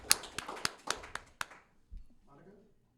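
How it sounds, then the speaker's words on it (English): A few sharp claps from a small audience at a live event, about six distinct hand claps in an uneven rhythm, followed by quieter murmuring voices. "All right, round of applause for it."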